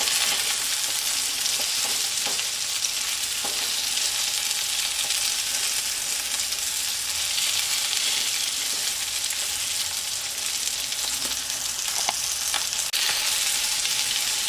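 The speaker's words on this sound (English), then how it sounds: "And we're going to cook them on either side for about 5 to 7 minutes" Parmesan chicken fingers fry in a pan with a steady, even sizzle that holds at a soft level for the whole stretch, with a few small pops and no talking.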